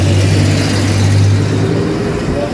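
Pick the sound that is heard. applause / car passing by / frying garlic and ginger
car passing by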